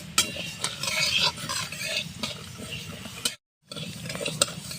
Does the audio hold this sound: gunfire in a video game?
no